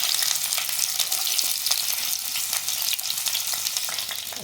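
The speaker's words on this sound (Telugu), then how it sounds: "నూనె వేడెక్కింది, ఉల్లిపాయలు వేసుకోవాలి," Onions frying in hot oil for a chicken dish, a dense, steady close-up sizzle and crackle that holds evenly throughout.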